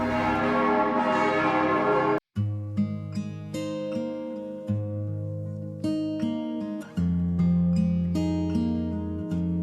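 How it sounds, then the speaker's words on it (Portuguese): Five church tower bells from 1880, the largest over 6,000 kilograms, ring out in Zurich in a steady series of resonant strikes, overlapping tones lingering and blending, loud and sustained with no talking. "Nesta torre há 5 sinos"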